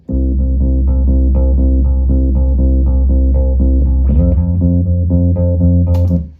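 A deep electric bass line layered with a thick Roland Juno synth bass holds steady low notes in a repeating pattern, then shifts to a new note near the end.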